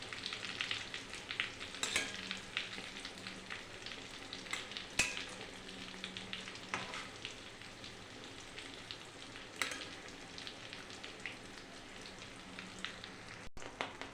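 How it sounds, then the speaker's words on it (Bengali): An egg, potato and flour mixture fries in a pan over low gas, giving a soft continuous sizzle and crackle with occasional spatula scrapes, fairly quiet and with no voices. "বেশ লাল লাল করে ভাজতে হবে"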